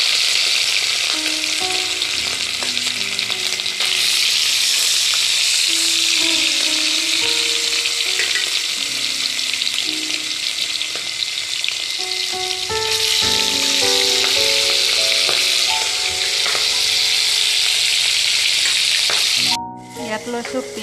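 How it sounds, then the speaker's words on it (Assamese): Pieces of rohu fish fry in hot oil in a wok, giving a loud, steady sizzle and crackle with occasional stirring clinks, cut short near the end. "তেল গৰম হ'ল মোৰ, এতিয়া মাছখিনি ফ্ৰাই কৰি ল'ম ধুনীয়াকৈ"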